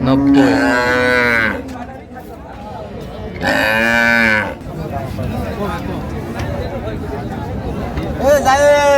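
A dairy cow moos loudly in long, drawn-out calls, three of them with gaps between, close by at a cattle market where milk cows and calves are being sold, over a steady murmur of voices.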